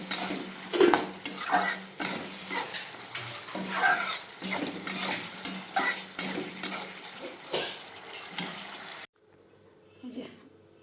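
A spoon scrapes and clinks steadily against a pan as spices are stirred and fried with a splash of water, with faint sizzling underneath; the stirring stops abruptly near the end, leaving a quiet room with a brief soft sound.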